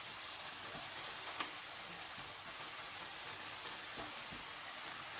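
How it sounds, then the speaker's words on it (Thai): Canned fish stir-fry with yard-long beans and fingerroot cooking over medium heat in a pan, giving a steady soft sizzle with faint scraping clicks throughout, fairly quiet and without talk. "ผัดต่อให้ทุกอย่างละลายให้เข้ากันให้หมดเลยครับ"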